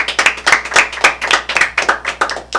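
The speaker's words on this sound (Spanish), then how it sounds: "un aplauso para nuestros invitados" A small studio audience on a radio music-talent program claps for guests, a steady run of brisk, close handclaps lasting a couple of seconds with no talk.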